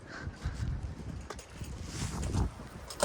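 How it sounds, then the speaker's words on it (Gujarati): Cold wind blowing outdoors, buffeting the microphone with low rumbling gusts that rise and fall over a few seconds. "અત્યારે તો પવન છે"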